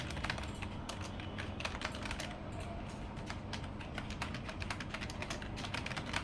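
Steady, fast typing on a computer keyboard, close and quiet. The keystrokes form a dense, continuous patter with no pauses and no voice.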